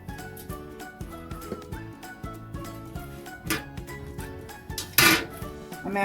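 Metal pizza pan handled in a home kitchen, with a series of light clanks and taps spread across the moment, close and fairly quiet, ending in a sharper clatter; no voices.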